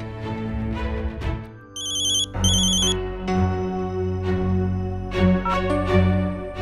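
A mobile phone rings for an incoming call, a short burst of bright electronic ringtone tones that stands out briefly over continuous background music.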